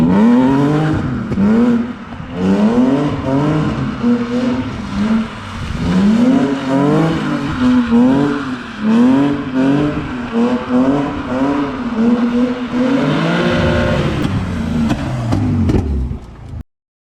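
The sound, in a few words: BMW E46 car driving and drifting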